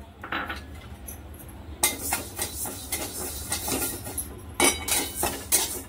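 Urad dal, four spoonfuls, tipped into a pan for slow dry roasting while making sambar masala, giving a rattling scatter of grains and metal clatter that swells at moments, close and with no talk.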